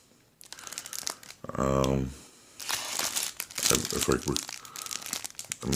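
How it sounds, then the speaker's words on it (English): A crinkly cotton-type emergency blanket from a go bag is handled, giving a loud crumpling rustle in bursts, with someone speaking between and over the crackling. "They call it an emergency blanket, I believe, but this is different material."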